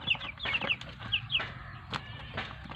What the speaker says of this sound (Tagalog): Ito yung nakuha kong mga bagong lahi ng manok,